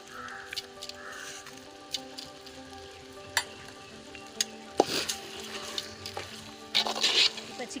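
Steady sizzling and crackling of chicken frying with salt in a pan for biryani, close up, with occasional clinks and scrapes of stirring.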